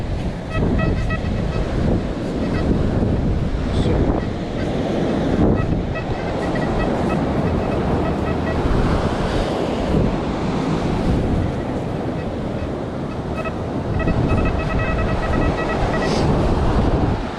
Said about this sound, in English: these waves are coming in.